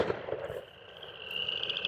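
A single shotgun blast from a Mossberg SA-20 firing an Apex TSS turkey load goes off outdoors and trails into a brief fading echo.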